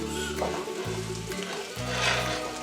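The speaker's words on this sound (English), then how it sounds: "Then into our pot go the diced potatoes" Diced potatoes drop into a pot of hot butter and set off a steady, close frying sizzle over low sustained tones in the background.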